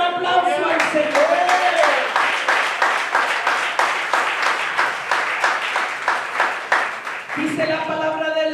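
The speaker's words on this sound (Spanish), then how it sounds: "Dar un aplauso al Señor." A church congregation claps together in dense, rhythmic applause during a Spanish-language service, loud and sustained, with voices and singing heard at the start and end.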